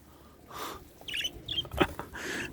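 Four Japanese quails in a cage give short high chirps and squeaky calls, a few scattered bursts close by over faint background noise.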